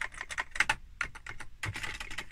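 Typing on the soft, mushy keyboard of an Atari 520ST computer: a quick, uneven run of close, muffled key clicks with brief pauses between bursts.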